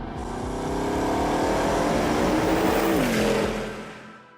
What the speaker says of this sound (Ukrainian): Останній вихід на сцену видатного 8-літрового 4-турбінного W16 двигуна Bugatti.